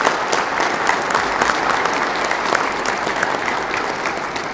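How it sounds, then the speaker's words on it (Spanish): Loud, steady applause from the audience at a municipal development council meeting in Patzún, many hands clapping in a dense, continuous patter that holds evenly throughout. "Les brindemos un fuerte aplauso a estos compañeros."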